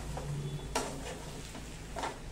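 Potato chutney being stir-fried in a pan with salt and crushed peanuts: a steady soft sizzle under scraping, stirring strokes, with one sharper scrape near the start and quieter pushes afterward.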